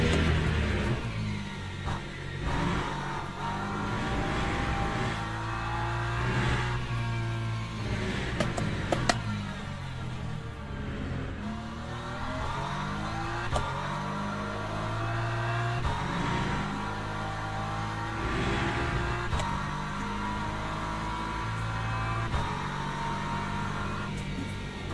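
Race car engines roar continuously in the sim racing game Le Mans Ultimate, with rising and falling rev sweeps and gear shifts during a daily race among LMP2 prototypes, loud and close throughout.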